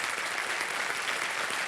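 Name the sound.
audience applause on a TV quiz show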